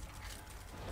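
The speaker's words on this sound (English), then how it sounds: "Reloading." A pistol reloads in Call of Duty Nazi Zombies on a custom casino map, a quick mechanical clicking and ratcheting, faint under low background rumble.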